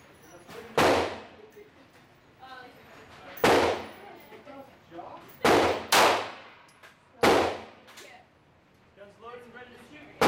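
Loud 9mm pistol shots from a Glock 19 at a Las Vegas indoor shooting range, five sharp cracks at uneven intervals, each with a short ringing decay, with voices talking quietly between shots.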